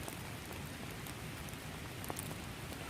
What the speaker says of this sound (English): It's rained harder than this.